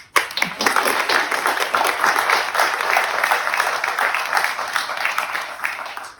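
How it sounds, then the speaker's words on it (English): Applause from the crowd at the grand opening of the Mississippi EMERGE Center rings out loud and close, a dense, steady wash of many clapping hands that holds for several seconds before stopping sharply. "please give yourselves a round of applause"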